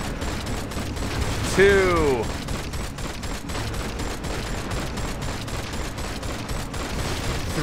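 A gun fires in LEGO Marvel's Avengers as rapid, regular shots with mechanical clatter under a game backdrop, and a brief rising whine partway through. A voice counts out loud.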